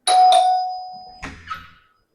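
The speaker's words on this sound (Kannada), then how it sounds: "ಸೊ ಬೆಲ್ ಮಾಡಿ ನೋಡೋಣ." A doorbell at a hotel-style room in a Coorg homestay resort gives a two-note ding-dong that rings out and fades, followed by a couple of soft knocks or handling sounds, close and clear.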